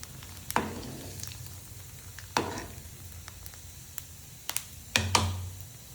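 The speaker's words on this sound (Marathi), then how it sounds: "खोबरं परतून घेऊया तेलामध्ये" Coconut roasting in oil in a pan, a low background sizzle punctuated by a few sharp scrapes and clatters of a spatula stirring.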